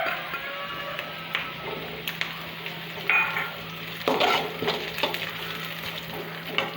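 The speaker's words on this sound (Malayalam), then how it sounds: "ഇഞ്ചി ചതച്ചത് ഇടുകയാണ്." Crushed ginger sautéing in a pan for egg semiya biryani: a soft, close sizzle under repeated scraping and stirring clatter, with occasional louder knocks of the utensil against the pan.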